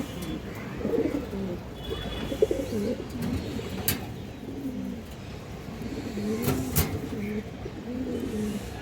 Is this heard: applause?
no